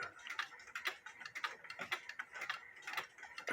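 A cuckoo clock under repair ticks with quiet, close, regular mechanical clicks, about three per second, with no other sound.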